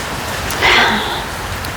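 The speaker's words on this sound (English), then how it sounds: "I've got a thunderstorm happening at the moment, being given a rain dance, rain pouring down." Heavy rain pouring down outdoors during a thunderstorm, a steady broad hiss of falling water with a brief louder surge partway through, no voices.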